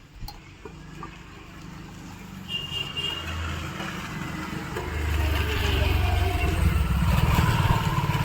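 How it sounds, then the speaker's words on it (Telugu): Rumbling road traffic with tractors and other vehicles passing nearby a roadside house, the low drone building steadily louder toward the end. "మాది రోడ్డు పక్క ఇల్లు కదండి ఇంకా ట్రాక్టర్లు వెహికల్స్ వెళ్ళే సౌండ్ డిస్టర్బెన్స్గా ఉంది"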